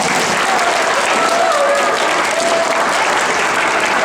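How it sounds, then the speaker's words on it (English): A middle-school audience bursts into loud, dense applause, a continuous close wash of many hands clapping at even intensity with faint voices and cheers under it. "let's give him a round of applause for making great friends"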